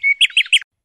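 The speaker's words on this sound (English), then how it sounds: "isn't that bird singing so sweetly from the tree?" A songbird calling from a tree: three or four quick, bright chirps in a short burst, close and clear with nothing behind them.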